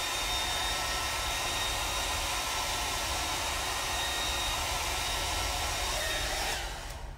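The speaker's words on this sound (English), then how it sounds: "Go back to my hair dryer really quick because we only have a minute." A hair dryer blows steadily at close range to dry a fresh white base coat on a painted miniature, a loud continuous whoosh that holds for several seconds and then starts to fade.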